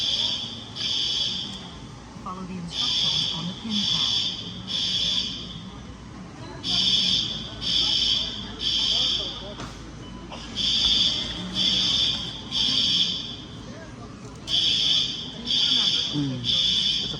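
Fire alarm going off inside a Costco store in Boise, Idaho: loud pulsed electronic buzzing tones repeat in steady bursts throughout, while a recorded voice gives an announcement.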